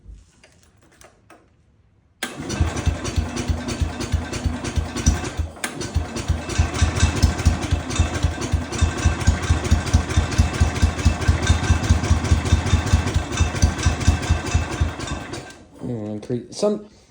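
A Cub Cadet International 105 garden tractor's small Kohler engine cranks and catches, then idles steadily with a rapid, even chugging rhythm before shutting off near the end.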